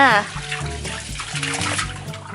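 Water rushing from a pump or hose into water balloons, a steady splashing fill that continues under excited children's voices and nearby chatter throughout the short stretch.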